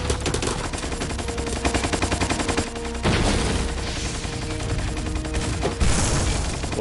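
Rapid automatic gunfire from the Patriot in Metal Gear Solid 3, loud continuous bursts filling the whole stretch with a brief break midway before resuming, alone without talk.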